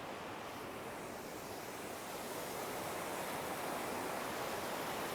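The Kern River rushes below a wooden bridge on the High Sierra Trail. It makes a loud, steady, broadband roar that fills the whole scene, with no break.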